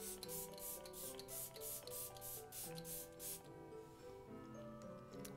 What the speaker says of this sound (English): Now I'm just going to set my face with the Tarte Rainforest with a C setting spray.